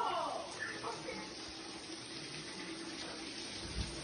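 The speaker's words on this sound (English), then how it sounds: "Turn the water off." Water running from a tap during a Texas winter storm, a steady gushing rush, strongest at the start and then holding constant, with a voice faintly underneath.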